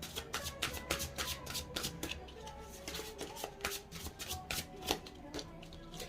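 A deck of Yule oracle cards is shuffled close by, giving rapid bursts of crisp riffling and flicking with short pauses between them and faint background music underneath.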